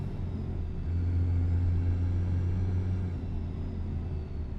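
A Toyota SUV in Euro Truck Simulator 2 takes a curve at about 80, its engine a steady low drone with a rumbling hum that swells slightly midway, with no voices over it.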